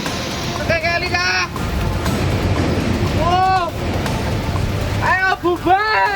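A cold lahar flood from Mount Merapi, triggered by heavy rain, surges down the Senowo River in Magelang, Central Java, making a steady, loud, broad roaring rush that continues throughout while voices speak over it.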